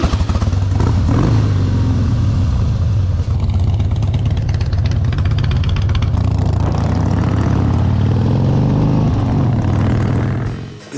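Motorcycles riding on twisty Davie County country back roads, a loud steady engine drone with low rumble that persists throughout and fades slightly at the end, no talk.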